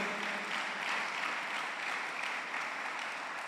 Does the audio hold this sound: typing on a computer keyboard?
no